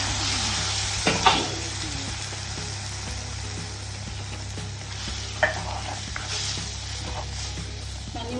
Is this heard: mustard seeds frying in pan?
yes